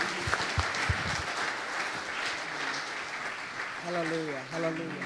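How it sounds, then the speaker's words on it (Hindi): A church congregation applauds loudly during a worship service, with dense, steady clapping throughout and a voice rising over it near the end. "जोरदार तालियां बजाइए खुदावंद के जलाल के लिए।"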